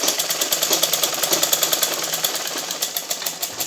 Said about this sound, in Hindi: ये लास्ट कॉर्नर आ गया है, इसको अच्छे से थोड़ा सा अंदर की तरफ करते हुए हम इसकी सिलाई लगा लेंगे